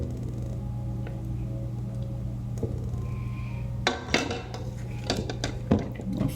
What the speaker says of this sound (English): I'm going to scrape everything off, make sure it all gets combined.